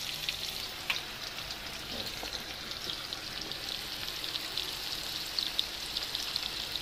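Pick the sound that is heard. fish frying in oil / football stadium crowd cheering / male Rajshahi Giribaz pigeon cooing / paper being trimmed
fish frying in oil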